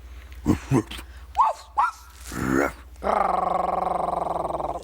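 A person imitates a big dog, voicing a few short, gruff barks and then a long, loud, rumbling growl, close up with no other sounds.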